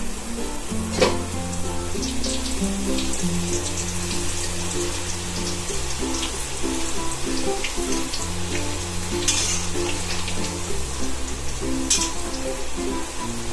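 Wheat khakhra frying in oil, a steady close sizzle running throughout with a few scrapes and clicks, no voices over it.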